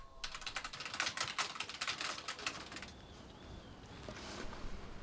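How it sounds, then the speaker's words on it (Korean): Rapid typing on a computer keyboard while a pastor prepares a sermon, dense close key clicks for about three seconds, then quieter sparse taps with faint room noise, no talking. "성경 쓰기로 단련된 타이핑 실력이 대단하시네요."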